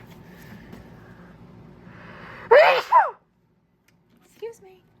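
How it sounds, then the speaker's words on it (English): A single sharp sneeze bursts out after some quiet background noise, followed by a short breathy sound and a brief faint vocal noise. "I think I'm gonna sneeze."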